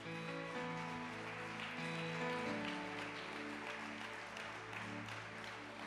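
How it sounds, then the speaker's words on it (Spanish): A church congregation claps during worship, the applause faint and steady beneath sustained music that carries through the whole stretch. "Den un fuerte aplauso a nuestro Rey."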